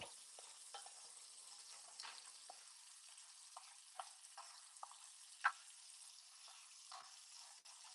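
A utensil scraping the bottom of a pan while shrimp and grits cook, with a soft steady sizzle underneath and scattered faint scrapes and clicks, close but quiet.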